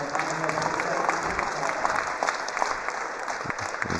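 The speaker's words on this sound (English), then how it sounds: "Big applause break out." A crowd at a wrestling match applauds steadily, a dense wash of clapping that holds at an even level throughout.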